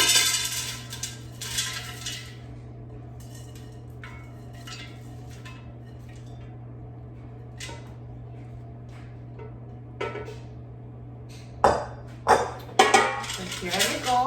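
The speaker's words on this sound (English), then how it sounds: "let's open the air fryer basket and transfer the hash browns to the air fryer." Oiled frozen shredded hash browns go into a metal air fryer basket with a few soft scrapes early on, quiet gaps over a low hum, then sharper metallic clinks and knocks bunched near the end.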